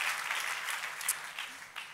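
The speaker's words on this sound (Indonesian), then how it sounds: "Sekali lagi tepuk tangannya paling meriah buat Yesus Tuhan kita" A church congregation applauds for Jesus during a Sunday service, a brief, moderately quiet wash of many hands clapping that stays steady throughout.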